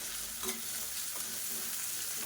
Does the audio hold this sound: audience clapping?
no